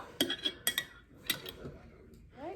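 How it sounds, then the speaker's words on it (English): A metal spoon clinks against a glass jar while scooping out dish-soap bubbles, a few bright close taps and scrapes in quick succession with quiet sloshing between them. "you can take the spoon and literally scoop out"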